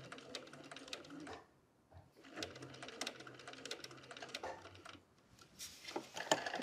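A sewing machine runs in short stitching bursts with brief pauses, sewing a back stitch on fabric for a puzzle ball, with close mechanical clatter and no talking.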